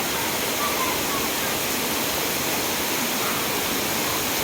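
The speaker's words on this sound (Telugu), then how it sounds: "చూస్తున్నారా అండి వర్షం అయితే ఎలా పడుతుందో" Heavy monsoon rain pours steadily over a garden with mango trees, a dense even roar that never lets up.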